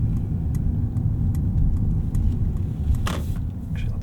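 Steady low road rumble from a 2024 Mercedes-Benz E450 4MATIC sedan climbing an entrance ramp, heard from inside the cabin as continuous engine and tire noise with a brief brighter swell near the end.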